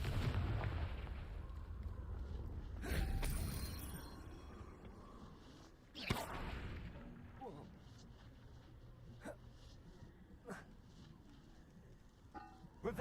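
Blasting-spell explosions from the Hogwarts Legacy game on rocks: a couple of sharp bursts near 3 and 6 seconds over a low rumbling bed, followed by fainter cracks, with no talk in between.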